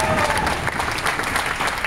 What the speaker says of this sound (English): Ladies and gentlemen, clap for our volunteers.